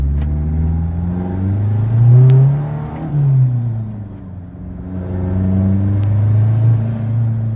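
An Isuzu D-Max 1.9 pickup from 2020 pulls hard in second gear, its engine drone rising and falling steadily across the clip, close and fairly loud with no talk over it.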